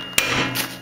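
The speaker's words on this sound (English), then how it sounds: "hammering with a 40 ounce, and it's tiring and hurts my wrists" A heavy 40-ounce hammer strikes once during work on a Mazda Miata, a sharp close blow followed by a brief ringing, scraping tail.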